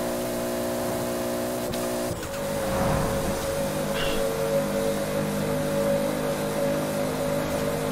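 A Toyota Supra in Forza Horizon 4 drives with a steady, droning engine tone that stays loud and close, shifting pitch once early on and then holding on as a continuous hum.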